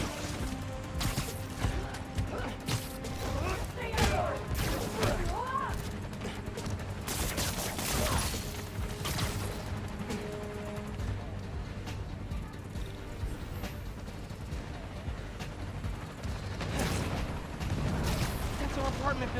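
Heavy gunfire from the Spider-Man: Miles Morales video game fills the scene with dense, continuous bursts and crashes, all mixed with loud game sound effects.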